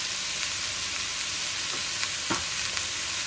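Onions fry with salt in a pan for Kozhikode-style chicken biryani, a constant close hiss with a few soft stirring scrapes near the middle and no voices.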